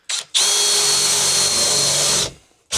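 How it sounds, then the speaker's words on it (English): A power drill bores a hole through the roof of a Ford Transit Custom van for a skylight. The motor is loud and close, running steadily for about two seconds after a brief start, then stops. "I think I'll drill right in the corner because I want the hole to be slightly bigger anyway."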